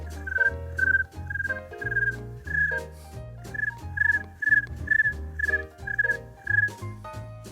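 A human voice imitates crickets chirping: a steady rhythmic run of short, shrill chirps over low throaty pulses, close to the microphone with no other sounds.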